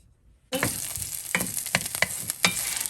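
Chopped onions hit hot oil and burst into a steady, loud sizzle, with crackling pops and stirring scrapes through the frying; quiet just before they go in.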